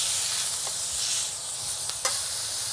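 A King Arthur beef joint for a British roast sears in a hot pan, giving a soft steady sizzle with a couple of faint clicks, quiet and close, with no voices.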